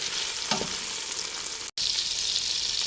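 Tomato gravy cooking in a pan gives a steady, close frying sizzle, with a brief stirring scrape near the start and a momentary dropout partway through, no voices.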